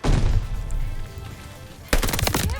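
Machine gun fire in the video game Call of Duty: Vanguard, played in the beta. A loud burst of rapid shots opens, the fire fades to a quieter rumble, then a second sharp burst of close shots follows.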